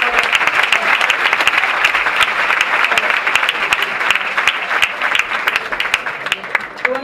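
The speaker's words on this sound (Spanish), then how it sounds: "ahora sí podéis aplaudir" Audience applause at a festival award ceremony in Antequera, a full, sustained crowd clapping with a few sharper individual claps standing out, steady from start to end and slowly easing near the close.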